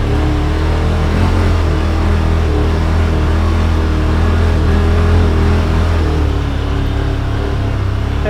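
A 2021 Yamaha Wolverine RMAX2 1000 Limited Edition side-by-side creeping along in crawl mode on a Windrock trail, its engine a steady loud low drone with rumbling under a continuous wash of noise.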